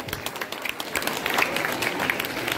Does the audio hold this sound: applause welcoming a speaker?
yes